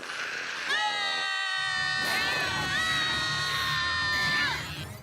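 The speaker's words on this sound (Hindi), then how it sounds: "इस वीडियो में तो बस ऐसा लग रहा है कि कुछ बच्चे मिलकर सिर्फ चिल्ला रहे हैं" Children in a cartoon shout together in a loud, sustained chorus lasting several seconds, bright and close.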